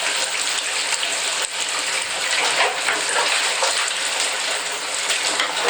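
Tap water runs steadily into a bathtub while dishes are washed in it, a close, constant gushing stream with no pauses and no voices.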